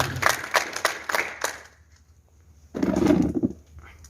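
Seminar audience clapping for colleagues, a short run of distinct, rhythmic group claps that fades out, followed after a pause by a brief low rumbling burst of noise.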